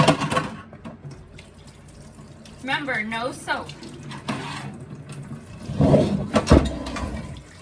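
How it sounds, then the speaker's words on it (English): Hot tap water pours over a cast iron pan, a moderate rushing and splashing stream that swells and fades while a person talks over it. "And we're going to use some hot water."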